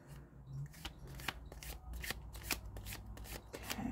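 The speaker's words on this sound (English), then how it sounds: "this deck, if I can riffle shuffle them, I'm going to be very impressed" A tarot deck is riffle shuffled up close, producing quick, crisp bursts of card flutter and snapping clicks in an uneven rhythm, fairly quiet and with no speech.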